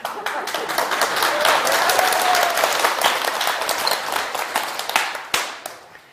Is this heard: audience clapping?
yes